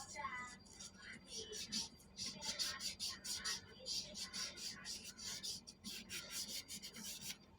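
Repeated back-and-forth rubbing strokes as a 12-inch Sekai electric fan with metal blades, dead without warning, has its parts scrubbed clean; steady rasping bursts, close and moderately quiet, with faint talk in places.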